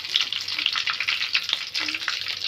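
Cumin seeds, dried red chillies and curry leaves frying in hot oil, a close, continuous crackling sizzle with small pops and stirring scrapes, no talk.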